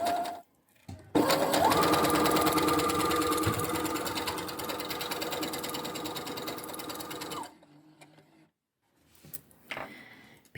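A sewing machine stitches beaded fabric just inside a basting line, running loud and steady for about six seconds before stopping, then giving a few quieter mechanical sounds afterward.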